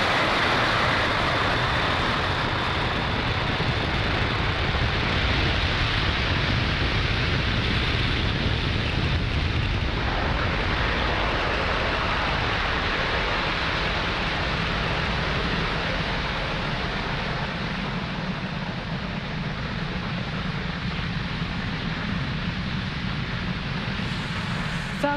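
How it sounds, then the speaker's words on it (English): A SpaceX Falcon 9 rocket lifting off from pad 40 produces a dense, continuous, rumbling roar. It stays loud and broad from start to finish, with no voices. "Falcon 9 has successfully lifted off from pad 40"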